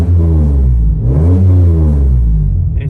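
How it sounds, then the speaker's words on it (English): A 3G Mitsubishi Eclipse engine revved quickly from idle, rising to a loud, close roar around the middle before dropping back, with strong low rumble and no voices. "If we rev it up quick"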